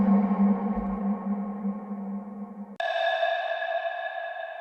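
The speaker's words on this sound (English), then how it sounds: "a snare sample or a percussion sample with a lot of reverb on it, like this sound has" Percussion sample drenched in heavy reverb, a sustained resonant tone that rings out alone, then abruptly shifts to a brighter, higher ringing tone that holds steady until the end.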